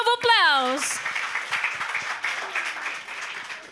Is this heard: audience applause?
yes